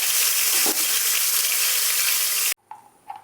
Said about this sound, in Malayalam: ഇതിലേക്ക് കുറച്ച് മുന്തിരി ഇട്ട് കൊടുത്ത് വറുത്തെടുക്കാം.